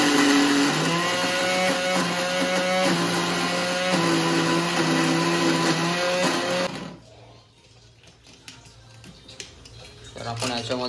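A mixer grinder blends uttapam batter with a loud, steady whirring drone for about seven seconds, then cuts off, leaving quieter kitchen clatter.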